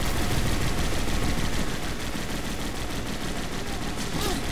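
Dense, continuous gunfire from the co-op video game Resident Evil 5 fills the whole stretch at a steady loud level, with overlapping shots blending into a constant crackling roar.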